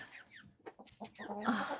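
Several chickens in a coop cluck and chirp softly nearby in short, irregular calls, ending in a slightly louder burst of clucking.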